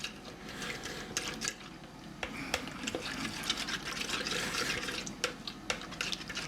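Water being stirred together with 2 tablespoons of tomato puree for a sauce: close, wet sloshing and scraping with sharp spoon-on-bowl clicks scattered throughout, no voices.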